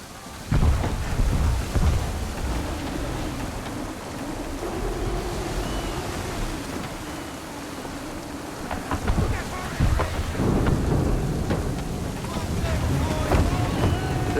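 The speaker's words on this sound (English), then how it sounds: "There's a storm coming," Heavy wind and rain lash a sailing ship at sea in Assassin's Creed 3 as a thunderstorm approaches, a dense roaring wash with low rumbling swells and gusts rising and falling.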